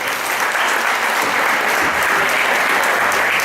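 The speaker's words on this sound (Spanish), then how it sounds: "Aplauso para estos cantadores." A Christmas audience at an Aragonese cultural centre in Puerto de Sagunto claps for a group of singers, a dense, even wash of applause that stays loud and unbroken for the whole stretch.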